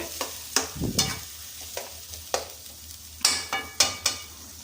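Puris fried in hot oil, heard as a steady low sizzle behind sharp bursts of stirring and scraping. Several crisp clatters recur unevenly, close and fairly loud, with no talking.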